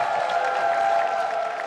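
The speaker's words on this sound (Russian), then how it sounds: "аплодисменты Сергею." Studio audience on a Russian TV show applauds a man called up from the crowd, a steady, even patter of many hands at moderate to soft loudness.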